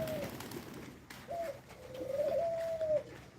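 Pigeons coo softly at a backyard loft in the early morning, a few low, drawn-out calls close by over faint background noise.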